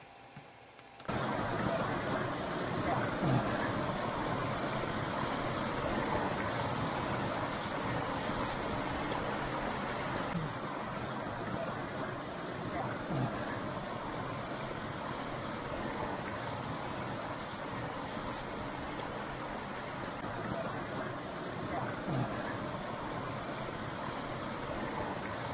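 Steady broadband rush of creek water flowing continuously, moderately loud and close, with no voices over it.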